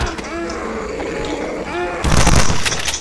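A shotgun blast in the Too Dark For Day horror game lands as one loud, heavy boom near the end, after a stretch of game sounds and a voice talking.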